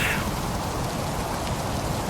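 Rain falls steadily during a video game roleplay, a loud, dense, continuous hiss of drops on surfaces with no voices over it.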